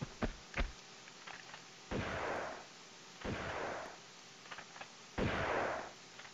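Gunfire in the video game Tomb Raider 2 on the level The Deck, with a few sharp pops early on, then three heavy booming shots spaced about a second and a half apart, loud and without speech.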